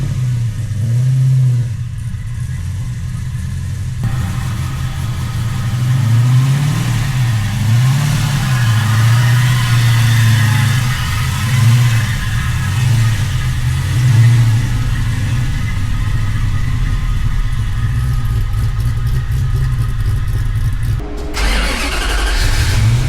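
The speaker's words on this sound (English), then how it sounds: "We're gonna hit the dyno for tuning, and we're gonna get this truck taken care of." A 1971 Dodge Sweptline truck engine on a tuning dyno, loud and close, cranks and catches, then revs up and down in swelling waves before cutting off abruptly near the end.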